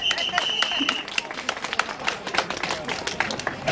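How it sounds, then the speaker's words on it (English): A crowd at an anti-fracking rally in Westminster claps. Sharp, scattered hand claps ring out over a murmuring background, with voices mixed in. "I think what you should do by give yourselves all a big round of applause to start off with."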